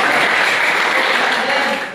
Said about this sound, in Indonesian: Ya, aplaus buat Sragen.